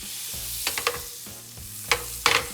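Carrots sizzle in butter in a hot pan, a steady crackling hiss broken by several sharp stirring scrapes, loud and close with no talk.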